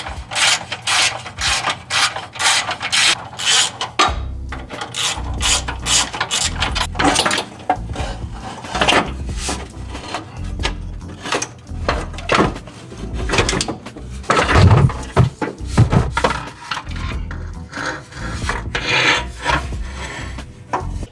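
Hand tools work on a bracket under a Nissan 370Z during a turbo kit install, with repeated metallic rasping, ratcheting clicks and scraping in irregular bursts, close and fairly steady.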